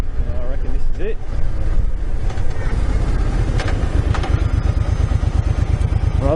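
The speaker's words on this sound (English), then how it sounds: "Another motorbike." A motorbike on a dirt track passes nearby, its engine a steady pulsing rumble with rattling clatter, loud and continuous throughout.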